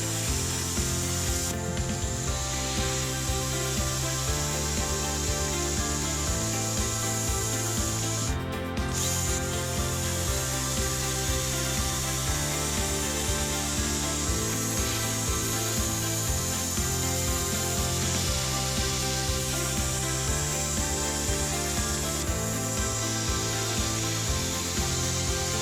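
A CNC machine cuts out reinforcing bars for a track-driven trike frame, a loud continuous grinding and rasping drone with a repeating rhythmic pattern that holds for the whole stretch.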